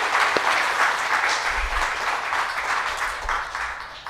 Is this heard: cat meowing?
no